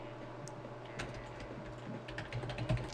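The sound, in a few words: typing on a computer keyboard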